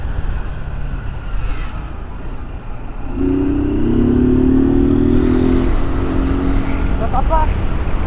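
Honda Fan 160 motorcycle with its original exhaust and no filter, the engine droning steadily and then revving up into a loud, sustained tone close by, with people talking over it.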